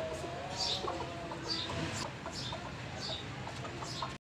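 A bantam hen gives a series of soft, short clucks and chirps at irregular intervals, fairly faint against a low background hum, with no talk.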